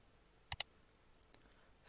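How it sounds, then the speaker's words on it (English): Two quick computer mouse clicks on New Layer in AutoCAD's layer manager, close and crisp in a quiet room, followed by a couple of fainter clicks. "And now I will click on New Layer."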